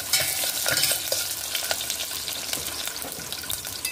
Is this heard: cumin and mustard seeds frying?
yes